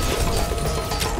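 A gun magazine swap in the shooter game Bodycount, heard as a dense burst of mechanical clicks and ratcheting clatter lasting about a second, loud and close amid busy game noise, with no talking.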